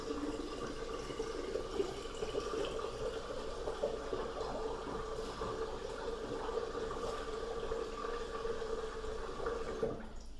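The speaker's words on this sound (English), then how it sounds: "I'll eventually flush it away by turning some water on in the utility sink" Water runs steadily from a utility sink tap, a continuous rushing hiss at moderate level with no breaks. No one speaks.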